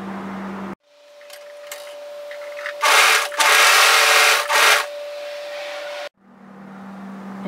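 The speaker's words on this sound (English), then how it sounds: "place them right sides together and overlock the short ends so we have a loop" Overlocker running on the short ends of dress fabric to join them into a loop, a steady mechanical whir that rises louder in a few bursts for several seconds before stopping, with no one talking.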